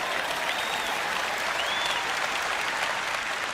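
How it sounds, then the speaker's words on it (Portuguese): Church congregation applauding God, a dense, even wash of many hands clapping at once, sustained and fairly loud throughout with no voices rising above it. "levante-se e dê um aplauso ao nosso Deus"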